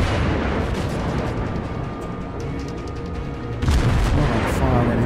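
Naval gunfire in World of Warships, with shots aimed at a burning Wyoming battleship: loud, continuous booming rumble with a fresh heavy blast about two-thirds of the way through, while someone talks over it.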